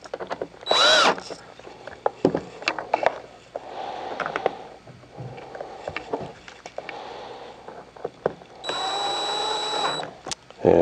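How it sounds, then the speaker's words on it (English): A T20 torque driver runs screws back into a control housing cover on a Phoenix AirMAX, giving short bursts of whirring drive with clicks and light handling noises in between, close and moderately loud. "reinstall the two screws using a T20 torque driver"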